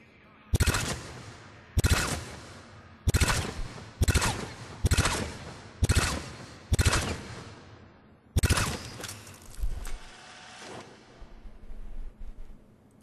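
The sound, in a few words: Hornet gun firing in the video game Mass Effect 3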